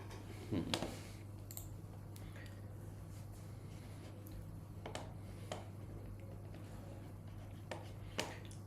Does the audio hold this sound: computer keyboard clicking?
yes